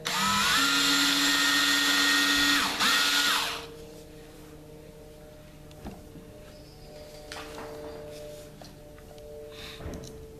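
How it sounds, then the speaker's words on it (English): A power drill bores a pilot hole in wood for a hexagon game table, giving a loud, whining burst of about three seconds that stops abruptly, followed by quieter rustling and a faint knock. "So now I'm just going to drill my pilot hole."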